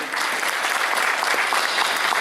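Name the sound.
audience applause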